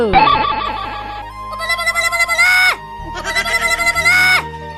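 A mobile phone plays a loud, bright melodic ringtone for an incoming call: a tinkling synthesized tune repeated in three back-to-back phrases, close and alone.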